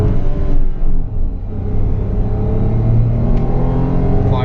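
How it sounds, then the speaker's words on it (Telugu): A Renault Triber car accelerating hard from a standstill toward 100 km/h, its engine a steady, loud drone heard from inside the cabin, with no voices. "ఇక్కడైతే మనం ఒకసారి 0 to 100 కిలోమీటర్ స్పీడ్ టెస్ట్ చేద్దాం"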